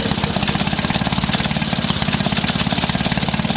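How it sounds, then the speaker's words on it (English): A 1946 Maytag 72D single-cylinder engine runs at about 1100 RPM while driving a 1927 Maytag washing machine. Its rapid, even firing chugs close and loud, steady throughout, with no talking. "That Maytag is running at about 1100 RPM."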